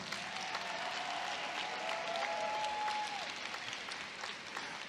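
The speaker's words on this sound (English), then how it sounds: "Give them a round of applause" An audience at the 143rd Prairie View A&M University spring commencement claps steadily in dense, sustained applause that fills the hall, with a faint whistle rising above it.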